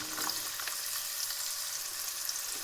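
Onions and garlic fry in a pan with a soft, continuous crackling sizzle that stays fairly quiet and even, with faint stirring scrapes near the start and no one speaking.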